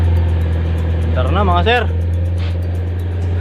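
A Mitsubishi Mini Pajero engine, repaired after a fuel pump wiring fault, runs at a steady close idle with a loud low hum, and someone speaks briefly over it.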